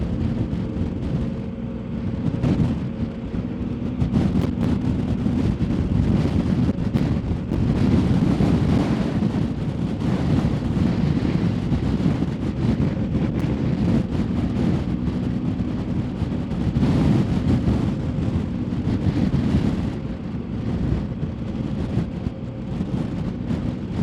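Strong wind buffets a microphone on the open expanse of Rannoch Moor in Scotland, a loud, continuous low rumbling roar with gusty swells throughout and no voices.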